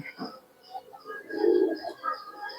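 Soft, low cooing of Giribaz pigeons rises and swells midway, with faint chirps and light background sounds around it.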